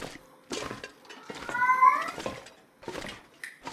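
A cat meows in a survival video game, one drawn-out mew standing out between short bursts of someone talking and small clattering noises nearby.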